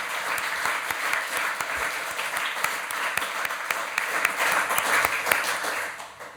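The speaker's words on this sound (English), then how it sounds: "Please welcome them all with a big round of applause." A full audience applauds steadily at a conference lecture event, a dense, sustained wash of many hands clapping close by that holds its level for the whole stretch and swells slightly toward the end.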